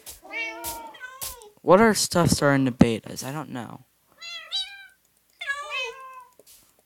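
Several cats in Minecraft beta 1.14 meow repeatedly, high wavering calls close by, overlapping with someone talking in the middle of the stretch.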